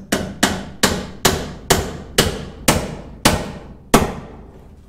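A hammer drives a nail into a wooden fence post with eight sharp, evenly spaced blows, each ringing briefly before the next, close and loud with no talking.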